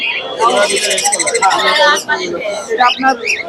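Caged pet birds at a bird market chirp and whistle loudly and close by in busy overlapping calls, while a person talks among them.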